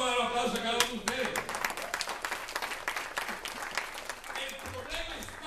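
A crowd breaks into sustained applause, dense clapping filling the room, with a voice speaking briefly over the start.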